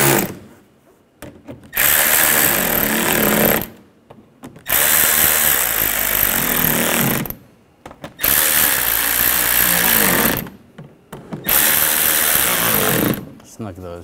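Four loud bursts of a power drill or driver tightening fasteners on a rear parking assist sensor bracket of a 2013-2019 Ford Escape, each running about two seconds with short quiet gaps between them.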